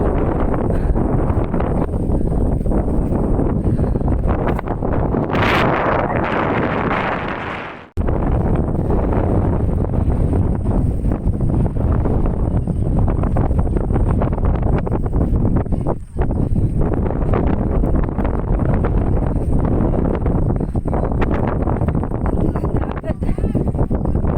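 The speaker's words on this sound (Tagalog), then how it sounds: "Lakas ng hangin." Strong wind roars across the microphone almost continuously on Mount Malamig, Banton, Romblon, a heavy buffeting rumble that briefly drops out before returning just as loud.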